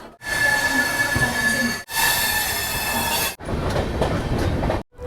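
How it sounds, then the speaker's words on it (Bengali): A departing train rumbles and clatters along the rails, loud and close, with steady rolling noise broken by brief gaps and a faint metallic squeal. "ট্রেন ছাড়লো আমাদের"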